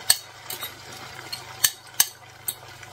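A tortilla omelette cooks in a frying pan with a low, steady sizzle, broken by several sharp clinks and scrapes of a utensil against the pan at uneven intervals.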